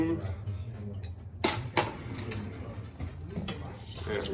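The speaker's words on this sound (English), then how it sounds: "Add water." Water is poured into a pot of rice on a home stove, a splashing, gurgling pour with a couple of sharp clinks of the pot, close by, with talk alongside.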